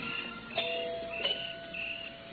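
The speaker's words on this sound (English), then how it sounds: "the least he can do is hear his own doorbell" A doorbell sound effect from an old-time radio detective drama rings twice in a two-tone chime, moderately loud over a quiet background.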